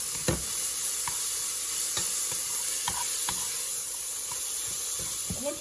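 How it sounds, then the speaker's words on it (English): Vegetables sauté in a hot pan with a steady, close sizzle and hiss, broken by occasional stirring scrapes and clicks from a utensil. "Just let it saute it"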